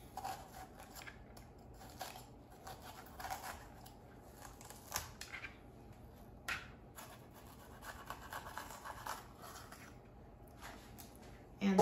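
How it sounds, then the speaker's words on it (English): Knife slicing through halved bell peppers on a board, a quiet series of crisp scratchy cuts in uneven rhythm, close and soft. "now I'm going to cut them into slices"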